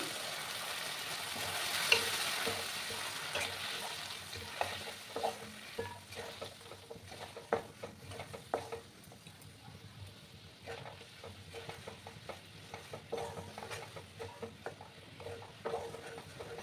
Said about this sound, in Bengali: গুড়টাকে ভালো করে গুলিয়ে নেব